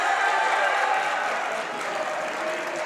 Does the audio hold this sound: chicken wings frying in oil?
no